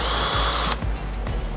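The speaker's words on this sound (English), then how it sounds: "So we got 1 drilled." Power drill boring a pilot hole through an aluminum front splitter on a 2020-2024 Chevrolet Corvette C8, a loud steady whine for most of a second that cuts off abruptly, followed by quieter handling noises.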